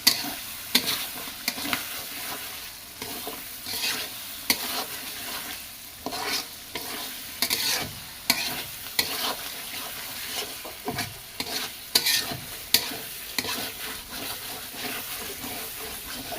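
New local flat beans fry and are stirred in a pan with tengra fish, a steady close sizzle broken by repeated scraping strokes of the spoon throughout.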